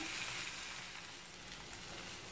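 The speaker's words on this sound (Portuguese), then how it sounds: "Agora é só mesmo cozinhar o ovo." Tapioca made from flaked corn couscous and an egg sizzle steadily in a frying pan, a close, continuous frying hiss with no voices.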